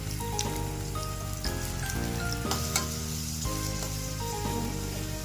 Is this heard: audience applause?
no